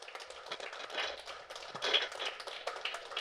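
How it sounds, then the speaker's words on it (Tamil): Faint, scattered audience applause at a Golu festival grand final in Guduvancheri, light patters of hands heard from a distance at low volume with no clear speech. "ஒரு பலத்த கரகோஷத்துடன்"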